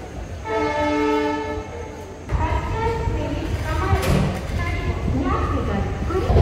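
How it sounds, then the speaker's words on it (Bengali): A passenger train pulls out at night; a long horn blast sounds first, followed by rumbling, clanking wagons and further horn tones, with people talking nearby. "এই যে ট্রেন ছাড়লো সবে।"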